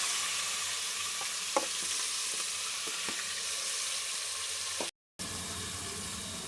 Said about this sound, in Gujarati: હવે આ છે પાપડી, તુવેર અને વટાણા છે એ નાખી દઈશું.